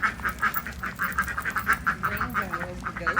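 Farm ducks quacking in a rapid, fairly close run of repeated nasal quacks, with a few overlapping calls and faint background sound.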